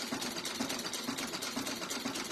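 A sewing machine stitching through a paper scrapbook layout, running at a steady, fast, even pace, close but fairly quiet, with no talking.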